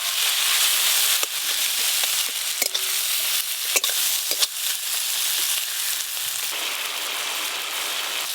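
Chopped tomato with chili, turmeric and cumin powders sizzling steadily in hot oil in a pan, with a few scraping stirs and clinks of a spoon against the pan, close and continuous, no voices.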